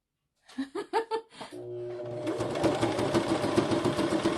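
A sewing machine stitches along the edge of a handmade paper journal, a steady close mechanical whir with rapid rhythmic clatter, preceded by a short burst of laughter and a voice.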